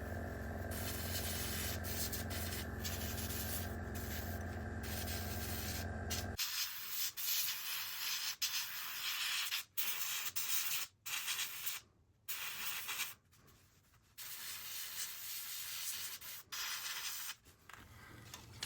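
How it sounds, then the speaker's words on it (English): Steady abrasive rubbing of sanding plastic parts on a 1/72 scale E-2C Hawkeye model, continuous at first, then broken into short strokes with brief pauses between passes. "I needed to repeat the sanding more than I would have liked"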